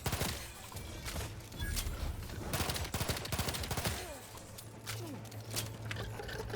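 Pistol fire in The Outer Worlds 2 video game cracks in rapid bursts amid a busy fight, dense clusters of sharp shots fairly loud with a low hum running underneath.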